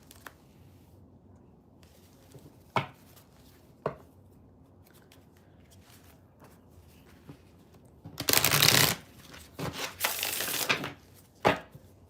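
Riffling bursts of tarot cards being shuffled, two longer flurries near the end, with scattered taps and handling noises in an otherwise quiet room.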